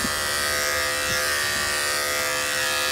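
Electric clippers buzz steadily and up close while grooming a dog named Sully's coat, a continuous bright motor whine that holds level for the whole stretch with no pauses.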